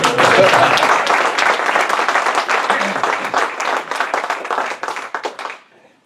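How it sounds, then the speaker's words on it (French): Crowd clapping at a political conference and debate in Bergerac ahead of a municipal election, strong hall applause that gradually thins out and fades to silence near the end. "Faut applaudir là normalement."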